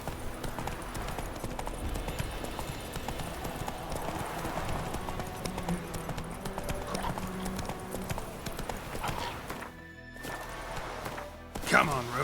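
Roach's hooves pound in a rapid clip-clop gallop in The Witcher 3, steady and prominent under a continuous ambient and music bed, with a brief drop near the end before the gallop returns; a voice speaks over part of it.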